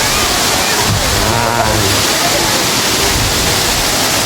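Loud, close waterfall of clear, cold water roars in a constant broadband rush, with people talking faintly beneath the noise.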